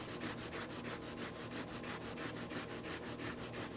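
Aluminum exhaust part on a 1983 Kawasaki GPZ1100 being scrubbed with a Scotch-Brite pad, a steady rhythmic back-and-forth rasping of about three strokes per second, close and alone.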